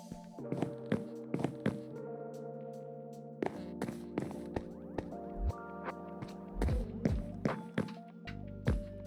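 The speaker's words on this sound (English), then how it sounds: "I think that that's probably just someone knocking on a block of wood" Minecraft wooden block sounds like knocking on wood, a series of hollow, sharp knocks in an irregular rhythm, close and clear with faint ringing between hits and no talking.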